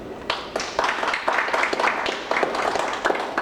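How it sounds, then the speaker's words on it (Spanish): Audience applause for a professor after his oral presentation at an academic talk session, a steady dense patter of clapping from a moderately sized crowd that carries on throughout with no one speaking over it. "agradecemos al ponente, el profesor Roger Palomino, con un fuerte aplauso."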